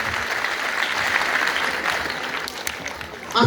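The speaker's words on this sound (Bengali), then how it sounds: "বড় করে তাড়িয়ে হাততালি হবে।" An audience claps steadily for several seconds, a dense, even wash of applause at moderate volume, swelling slightly toward the end with a few sharper claps.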